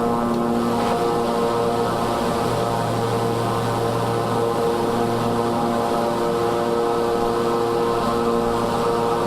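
Steady, loud drone of the Grumman E-2 turboprop engines in Microsoft Flight Simulator during a cross-country cruise, an unbroken propeller hum filling the whole stretch with no talk.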